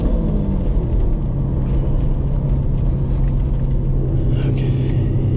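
A Lamborghini Diablo's engine rumbles low and steady from inside the car while driving, a continuous deep drone with a faint voice under it.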